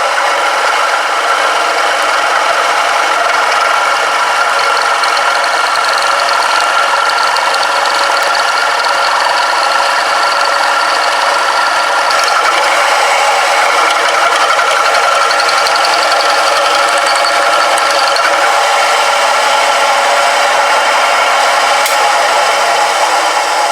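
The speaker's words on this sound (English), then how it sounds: "we'll finish the cut with a 3/4 drill, for lack of a better solution, to get the last little bit that the boring bar can't reach down into" Steady metal-cutting whine and rasp as a 3/4 drill finishes machining a slot in a welded arbor support, loud and continuous for the whole stretch with no talking.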